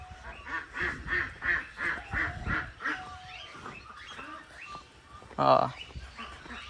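Ducks at an eco park quack in a rapid series of loud, close calls, with a louder honking burst later and people talking nearby.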